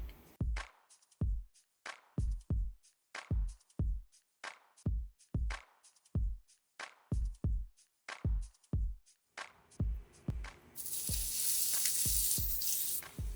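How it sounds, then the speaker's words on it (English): Vegetables saute in a pan after a long run of quick, evenly spaced knocks; in the last few seconds a loud, steady sizzle takes over and stays constant. "we get some of this veg sauteing"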